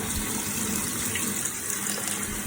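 Kefir grains are rinsed under a kitchen tap, with a steady, full gush of running water close by and constant throughout.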